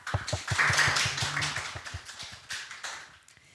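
Applause from an audience at a Korean upcycling idea contest award ceremony, heard as scattered, uneven claps that start strong and thin out toward the end.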